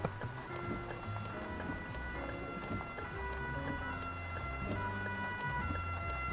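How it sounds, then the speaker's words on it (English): An ambulance siren wails in the Bus Driving Sim 22 game, a steady tonal whine under rumbling engine and road noise inside the bus, fairly quiet throughout. "Ambulance approaching, it sounds like."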